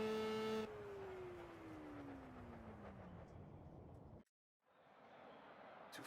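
A Formula Gulf 1000 open-wheel race car at Road America in Project CARS roars close by, its engine pitch sliding steadily downward, then cutting out briefly before the noise returns.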